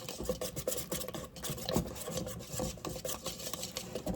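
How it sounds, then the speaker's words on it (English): A small whisk beating cornbread batter in a bowl, fast rhythmic scraping strokes that run continuously and close up, with a rough rasping texture. "Get this old stuff mixed up a little bit in here"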